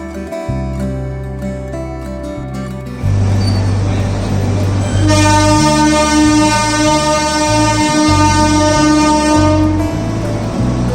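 A train at Jawai Bandh railway station in India, with long, loud, sustained horn blasts that shift pitch and layer over the rumble of the train, close by.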